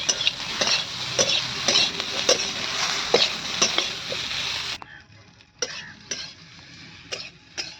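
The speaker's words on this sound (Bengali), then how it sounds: "এবার সবজিগুলো ভালো করে ভাজা হয়ে গেছে" Vegetables and fried potatoes frying in a pan with cumin powder for a fig and singi fish curry, a steady sizzle broken by repeated sharp stirring scrapes that turns quieter and sparser partway through.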